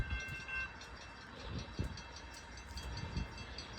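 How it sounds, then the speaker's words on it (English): A CSX freight train rolls past outdoors, a steady broad rumble with faint rhythmic wheel clunks over the rails, moderately distant and continuous, with no voices. "We got a CSX train inbound now."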